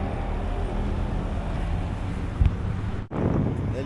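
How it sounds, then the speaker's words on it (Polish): Gentle mountain wind in the Pyrenees near Andorra la Vella rushes softly across the microphone as a low, steady hiss, broken by a brief bump and a momentary dropout near the end. "Delikatnie wieje, ale tragedii nie ma."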